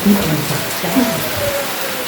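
Steady rain falling at Ubol Ratana Dam in Thailand, a dense broadband patter filling the clip at moderate loudness, with faint low murmurs underneath.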